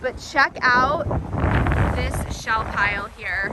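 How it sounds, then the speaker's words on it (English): Gusty wind buffets the microphone with low rumbling thumps while a person talks over it, outdoors on a windy day while hunting for shells. "You'll have to excuse the wind. It is a windy day here."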